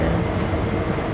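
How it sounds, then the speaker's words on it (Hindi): Freight locomotive in a train simulator game, hauling a mixed freight service to Victorville Cement near Hesperia, braking to a stop; a steady, loud low rumble of rolling rail wagons continues throughout with no pauses. "अप्लाई द ब्रेक्स, लोकोमोटिव रुक जाएगी।"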